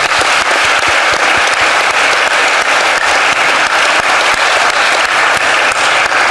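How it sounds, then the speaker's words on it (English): Sustained, loud applause from a literary festival audience in Charleston, a dense, steady wash of many hands clapping throughout for the behind-the-scenes staff, with no break. "So we want to give them a round of applause."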